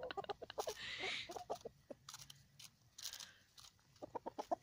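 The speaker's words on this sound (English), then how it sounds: "I didn't know chickens were that into lettuce." Backyard chickens peck at and eat romaine lettuce on a cold day, close by. Quick crunchy pecking bites mix with soft clucks and bursts of rustling.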